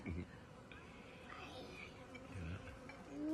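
A faint, steady buzzing of many bees, with a low murmur of voices underneath.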